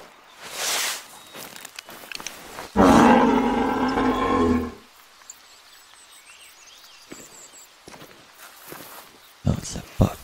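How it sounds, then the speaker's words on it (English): A bull moose call in the hunting video game theHunter: Call of the Wild, a loud, harsh, rough call lasting about two seconds near the middle, with footsteps and other faint movement sounds before and after. "Oh, it's a buck."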